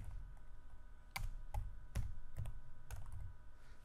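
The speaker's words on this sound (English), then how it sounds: "as we type something," Scattered, quiet keystrokes tap on a computer keyboard while text is typed into Word 2013, single clicks spaced irregularly over a steady room hum with no talking.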